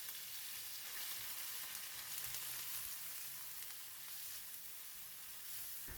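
Garlic paste and ginger paste sizzle in hot cooking oil for a dal curry, a soft, steady hiss that carries on alone at low volume with faint stirring beneath.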